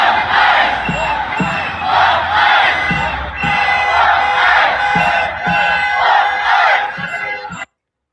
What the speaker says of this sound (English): Crowds gathering